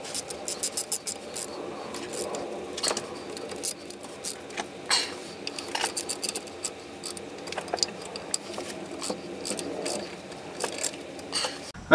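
A ratchet wrench tightens the bolts on a vehicle's differential cover, giving close, crisp bursts of clicking in short repeated runs with brief pauses between strokes.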